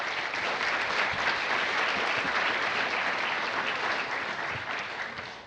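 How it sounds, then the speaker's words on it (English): Sustained audience applause at an African American Read-In event, dense steady clapping from a crowd filling the room at even loudness before tapering slightly at the end. "So please give yourselves another round of applause."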